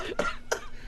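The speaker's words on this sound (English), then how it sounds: "That's quite the cough." Two sharp coughs in quick succession, close by, with a brief pause between them.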